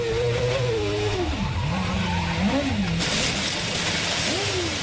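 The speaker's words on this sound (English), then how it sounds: "Maldonado lost the back end of the car and found himself beached in the gravel" Pastor Maldonado's Williams Formula 1 car losing its rear end and sliding into the gravel at the 2013 Australian Grand Prix, engine wailing and dipping in pitch over loud crowd and track noise, with a rough gravelly rush near the end.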